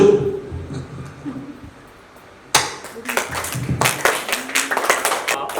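After a quiet stretch of faint murmuring, a group suddenly breaks into brisk, uneven hand clapping that continues loudly to the end.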